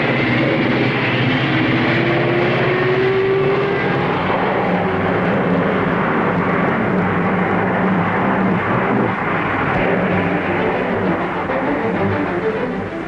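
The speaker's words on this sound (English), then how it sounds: "Gentlemen, start your engines." Race car engines at the 1962 Indianapolis 500 roar at the Indianapolis Motor Speedway, a loud, dense, continuous rumble of many engines that holds steady throughout.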